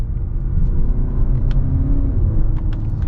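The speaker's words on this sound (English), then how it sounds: "usually 4-cylinders don't sound this good, but this actually sounds good" A 2022 Acura RDX A-Spec Advance four-cylinder engine rumbles under load during a manual-mode downshift, a steady low growl heard from inside the car with no talking.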